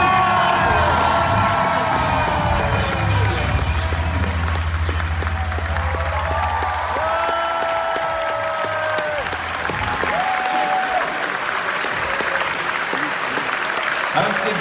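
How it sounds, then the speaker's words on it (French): A large crowd at Comic Con Paris applauds and cheers loudly and continuously, with whoops and shouts rising above the steady clapping. "Mesdames et messieurs, on applaudit bien fort Jim Starlin!"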